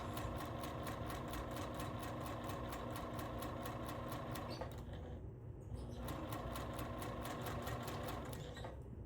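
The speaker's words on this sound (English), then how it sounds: "I'll sew a whole bunch of them at one time" Sewing machine stitching quilt pieces, a steady close rapid whir with regular needle clatter that pauses briefly midway, then resumes running continuously.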